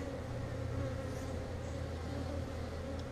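Honeybees buzz steadily at an open hive during an inspection, a dense continuous hum of many insects close by with no pauses.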